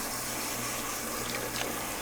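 Strong tap water runs steadily under high pressure while a wig is rinsed beneath it, a continuous close hiss and splash with no pauses.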